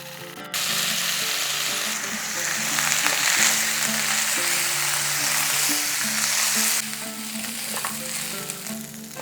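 Soaked rice frying in oil in a single pot with onion and potato, a loud, continuous hissing sizzle that starts abruptly, swells and eases with occasional stirring scrapes and faint clinks, close up and without talking.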